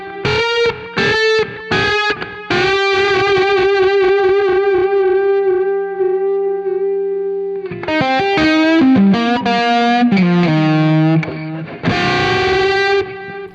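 Distorted electric guitar plays short notes, then a long sustained unison bend held steady, followed by quick phrases and more bends.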